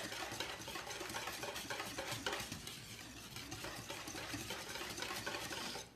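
Pumpkin pie batter being mixed in a bowl, a steady, fairly loud whisking and scraping that runs continuously for the whole stretch with no talk over it.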